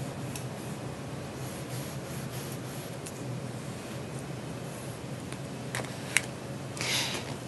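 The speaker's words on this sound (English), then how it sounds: "mark on the fabric of the garment where you believe the zipper should be" A marker scratches and rubs across the fabric of a lymphedema compression garment in steady, soft strokes, close and fairly quiet, with a brief sharper scrape near the end.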